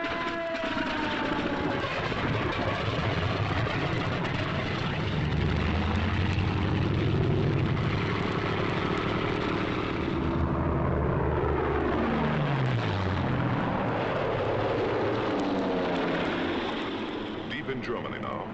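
WWII German fighters, Messerschmitt 109s and Focke-Wulf 190s, droning loudly in flight with steady propeller engine roar and passing swells, someone talking over them throughout.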